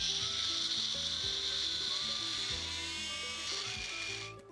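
A kitchen blender whirs steadily as it purees a curd chutney, a continuous loud motor hum that holds for several seconds before winding down at the end.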